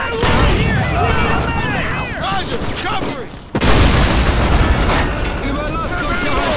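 Dense gunfire and heavy explosions from the World War II strategy game Faces of War, a continuous loud barrage with booming blasts and a sharp burst partway through, mixed with shouted game voices.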